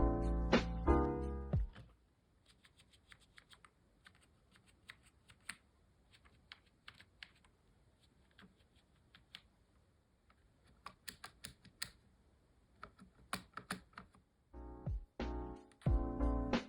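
Fast bursts of typing on a transparent Bondi blue 1998 Apple keyboard, close and crisp, with dense clacking at the start, a quieter stretch of sparse keystrokes in the middle, then heavier flurries toward the end.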